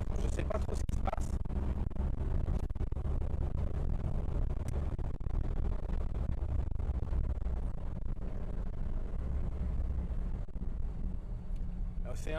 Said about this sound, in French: C'est peut-être aussi que la voiture est bruyante.